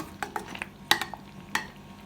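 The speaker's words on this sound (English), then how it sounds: "Continue to stir, because we don't want any lump to be in our porridge" Cornmeal porridge with coconut milk is stirred in a pot, a few quick, close scrapes and light clinks of a spoon against the pot over a faint background hiss, with no talking.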